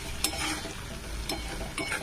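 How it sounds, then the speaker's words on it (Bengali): Food frying in mustard oil in a pan crackles and sizzles softly at a low level while a utensil stirs and scrapes it in a few brief strokes, with no voices. "সর্ষের তেলটা একটু দেবো, সর্ষের তেল একটু দিতে হবে। এটা এখন একটুখানি ভাজা হোক।"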